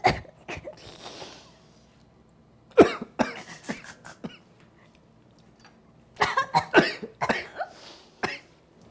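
Several sharp coughs from strong ground-spice fumes come in clusters, close and fairly loud, with quiet gaps between bouts and some throat clearing.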